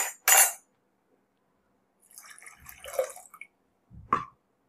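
Short bursts of water splashing and dribbling into a pot of mashed green gram curry, separated by silence, with a faint metallic clink near the end.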